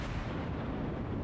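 A warship's heavy guns firing in the game World of Warships, a dense booming roar that fills the whole moment, loud and sustained without any talk.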